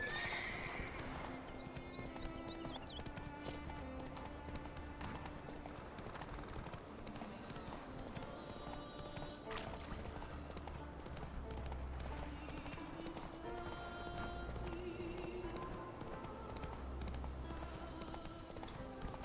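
A horse gallops in The Witcher 3: Wild Hunt, with steady rhythmic clip-clop hoofbeats, occasional neighs and whinnies, and game music and ambience underneath while a player talks intermittently.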